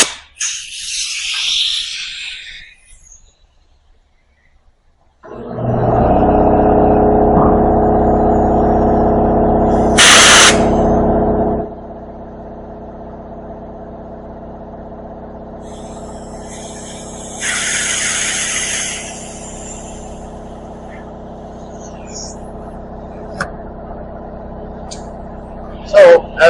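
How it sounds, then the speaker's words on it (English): Air suspension airbags inflating on a 1962 Chevy C10: loud pneumatic hissing and mechanical hum, with a brief sharp pop early on, then a quieter sustained whir and a second hiss burst. "the airbags are popping a little bit when they first go up"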